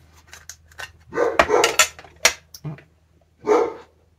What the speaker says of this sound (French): Ça, c'est mon chien qui aboie pour rien.